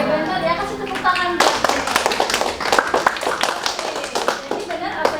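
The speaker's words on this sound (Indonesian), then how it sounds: "Oke, benar ya, kasih tepuk tangan." Children in a classroom clap together on the teacher's cue, a burst of dense hand claps starting suddenly after her speech and continuing with chatter and kids' voices.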